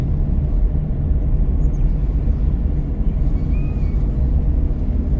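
Car engine revving during a driving lesson in Solan, a steady low rumble that rises slightly as the throttle opens, close and continuous with no talk over it.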